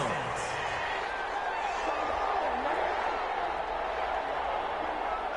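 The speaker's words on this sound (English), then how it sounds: "Well, the crowd doesn't like that." A stadium crowd in an American football video game boos a penalty flag on third down, a dense, steady roar of jeering that fills the whole stretch without a break.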